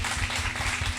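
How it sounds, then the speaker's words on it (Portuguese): A church congregation claps together in a dense, continuous round of applause, close and steady throughout the moment. "Vamos soltar o copinho e aplaudir Jesus"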